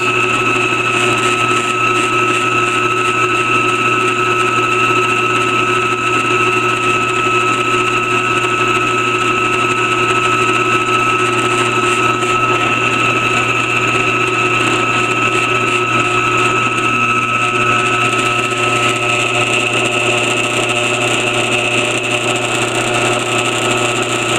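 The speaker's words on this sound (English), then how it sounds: "That's the terrible sound of a terrible drill press." A drill press runs with a steady, loud motor drone and a constant high whine, unchanged throughout with no pauses or voices.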